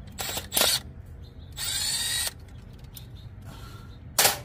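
Power drill removing bolts from a BMW automatic transmission in a workshop, with several short whirring bursts of varying length separated by quiet pauses, close and loud, with no talking.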